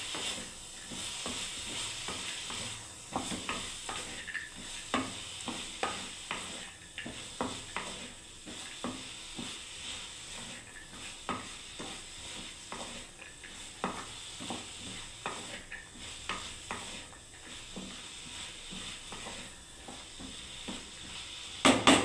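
Black chickpea and bottle gourd curry stirred in a pan, a faint, steady sizzle broken by repeated soft scrapes and clicks of a spoon.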